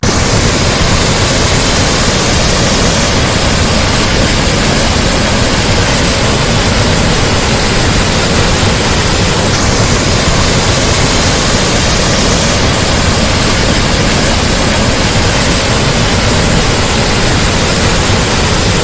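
A waterfall at Chathurangappara crashes onto rocks with a loud, steady, full roar that fills the whole clip without pause; no voices can be heard over it.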